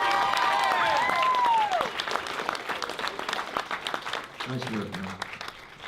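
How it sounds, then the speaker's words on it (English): An audience gives a round of applause after a Q&A appearance, dense clapping that starts loud and steady, then thins and tapers as someone talks over it. "can we have just like one more round of applause for this guy?"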